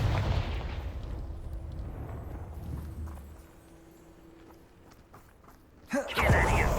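A Confringo blasting curse explosion in the game Hogwarts Legacy: a deep rumbling blast that fades into a quieter lull, followed by a sharp burst and voice-like tones at the close.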